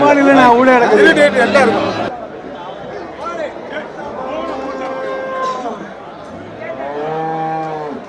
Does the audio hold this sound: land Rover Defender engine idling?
no